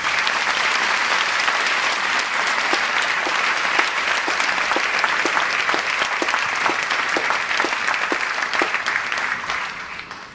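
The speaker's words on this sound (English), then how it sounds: "Can you give yourself a big clap?" Sustained audience clapping fills a school hall at a commencement ceremony, a dense steady wash of many hands that carries evenly for about ten seconds before tapering slightly at the end.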